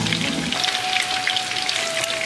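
Chicken pieces frying in hot oil for restaurant-style chilli chicken, a dense, loud crackling sizzle that holds steady throughout with a faint tonal whine.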